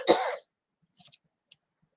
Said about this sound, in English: Sorry, I'm just going to cough.